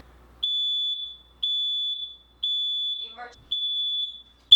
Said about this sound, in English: Heads up, there's smoke in this room. The alarm may sound.